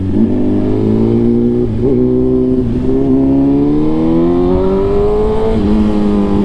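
A BMW S1000RR motorcycle engine runs loud and steady, its pitch climbing through several gear changes with brief dips between shifts, revving continuously without any talk.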